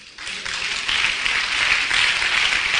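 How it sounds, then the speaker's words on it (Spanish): Congregation at an evangelical church service breaking into applause, starting quietly then swelling into steady, dense clapping that fills the room and holds at a fairly loud level throughout. "Un aplauso al Señor."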